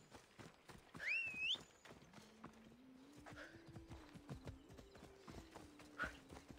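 In the video game Assassin's Creed Odyssey, a horse's hooves clip-clop in a steady run, with a short, high neigh near the start. A low tone hums underneath, and everything stays fairly quiet.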